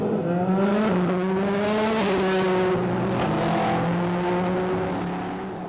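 GT race cars racing through the Variante Alta chicane at Imola during the 2016 European Le Mans Series 4 Hours, loud engines snarling and shifting pitch as they brake and accelerate through the corner.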